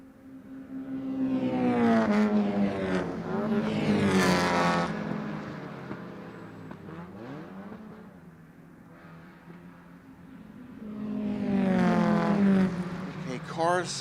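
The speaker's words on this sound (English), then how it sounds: "This group going into Big Ben right now. We've got 5 cars, all nose to tail." Mazda Miata race cars run nose to tail at Lime Rock Park, their engines swelling loud as a group sweeps past, fading, then rising again as more cars approach, with a commentator talking over the track noise.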